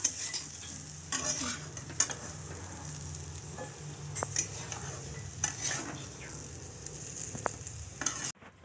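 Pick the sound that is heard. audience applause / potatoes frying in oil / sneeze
potatoes frying in oil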